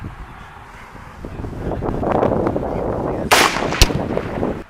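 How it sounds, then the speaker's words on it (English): A Springfield M1A rifle fires at an outdoor shooting range, giving two sharp, loud reports about half a second apart near the end, over steady wind noise on the microphone. "We're gonna give a few shots out here with the M1A and see how she does."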